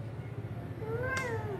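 A pet cat indoors gives a single clear meow, close and fairly loud, rising and then falling in pitch against a quiet background.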